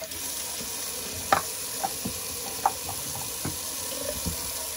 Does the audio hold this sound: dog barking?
no